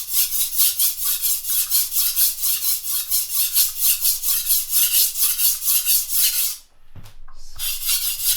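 Steel chef's knife with a broken tip being ground by hand on a sharpening stone, a steady rhythmic rasping of repeated strokes, loud and close, that breaks off near the end into a couple of brief scrapes and knocks.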